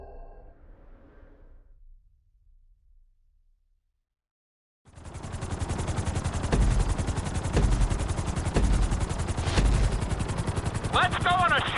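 A helicopter in the video game GTA V runs as a loud, steady rotor drone with rapid chopping pulses, beginning suddenly after quieter talk and a brief silence, with a few sharp bangs over it.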